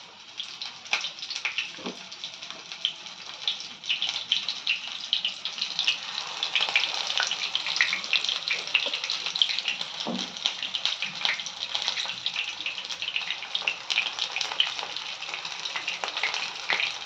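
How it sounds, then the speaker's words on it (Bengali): Pomfret fish frying in hot oil at home, a steady, dense crackle and sizzle running throughout at moderate level with small pops, no voices. "প্রথমে তেলটাকে হাই ফ্লেমে করে তারপরে একটু কমিয়ে মাছগুলোকে দিতে"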